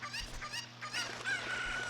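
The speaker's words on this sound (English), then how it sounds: "Goddamn chicken" A cuckoo chicken in the Zelda Ocarina of Time video game clucks in a rapid, close run of squawks over a low hum, with no talk.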